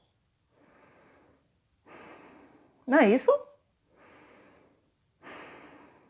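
Slow, calm natural breathing demonstrated in a singing lesson on diaphragmatic support: soft, steady inhales and exhales in even cycles, close and quiet, broken once by a brief spoken phrase.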